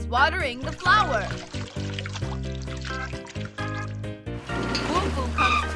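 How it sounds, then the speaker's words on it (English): Water pouring as a cartoon bus waters a flower, a trickling, bubbly pour running under upbeat background music with squeaky voice effects. "Bus is watering the flower."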